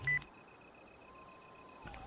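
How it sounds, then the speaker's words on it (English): Phone call alert in the video game Spirit Hunter: NG: a short electronic beep opens the clip, a thin sustained tone runs beneath, and a second brief beep closes it, with no talking. "Got a phone call."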